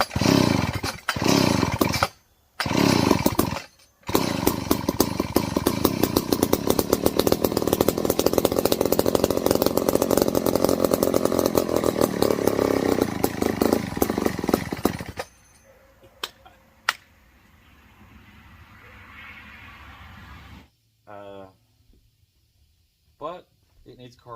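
A McCulloch 250 chainsaw with a worn carburetor, in need of a carb kit, roars loudly and continuously at close range for about fifteen seconds after a few short bursts, then cuts off, followed by quiet handling sounds and a brief mechanical whine.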